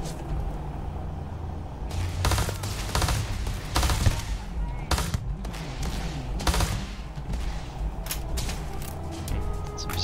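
In the space video game Starfield, a weapon fires in rapid repeated bursts, loud and dense throughout, with overlapping impacts and mechanical clatter in a busy combat mix, and voices in the background.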